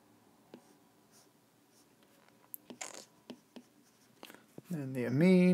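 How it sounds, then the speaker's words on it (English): Pen strokes scratch and tap against paper while someone draws chemistry molecules by hand, a string of short soft scribbles under faint background hiss, ending with someone speaking close up. "I'm going to draw a few molecules here."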